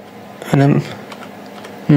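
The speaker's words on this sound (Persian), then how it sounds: "به این میگن کیبورد قشنگ" Keys clack on an RGB gaming keyboard in two short bursts of rapid presses, close and fairly loud, with quiet room tone between them.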